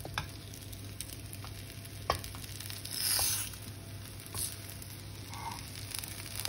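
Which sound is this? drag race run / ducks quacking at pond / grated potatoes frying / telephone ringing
grated potatoes frying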